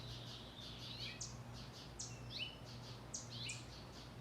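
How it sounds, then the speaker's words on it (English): Several birds chirp and tweet outdoors in a residential neighborhood in Murray, Utah, in short, repeated bright calls, fairly faint against a quiet background hum. "The birds sound just beautiful today."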